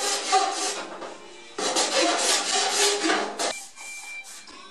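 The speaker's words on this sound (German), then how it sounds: "Man kann den Kleber aber auch mit einer einfachen Karosseriefeile bearbeiten." Rough rasping strokes of a hand body file on car body filler, two bursts of steady scraping close by, with a short pause between them.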